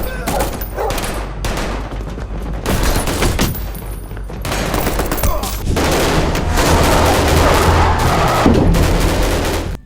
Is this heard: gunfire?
yes